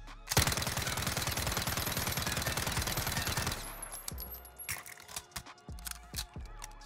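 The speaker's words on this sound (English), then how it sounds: "Let's go ahead and start with our Uzi here. So we'll go ahead and shoot right in the middle of the O" Uzi submachine gun fitted with a compensator fires a sustained, rapid automatic burst in the video game Warzone, loud and close for about three seconds, then stops and leaves a few faint clicks and handling noises.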